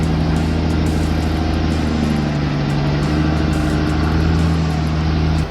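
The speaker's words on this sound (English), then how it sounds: "The log-loaded truck roars up a muddy incline, its tires sinking deep into the sludge with each turn." A heavy log-loaded truck engine roars loudly and steadily as it climbs a muddy incline, with a deep droning hum throughout.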